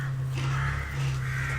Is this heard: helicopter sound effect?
no